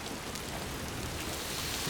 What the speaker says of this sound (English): Alright, it's raining.